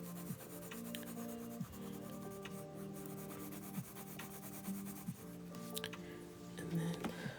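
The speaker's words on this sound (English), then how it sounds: "I'm gonna shade this whole leg to show dimension and show that it is further away from the viewer." A pencil shades a drawing of a leg on paper, a close, soft, continuous scratchy rubbing in repeated back-and-forth strokes, fairly quiet, with no clear talk.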